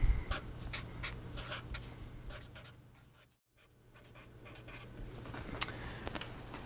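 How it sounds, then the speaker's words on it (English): Pen or marker writing a mathematical statement on a board or paper, a steady scratchy stroking texture that pauses briefly midway, heard alone and fairly close. "So let me write that statement down."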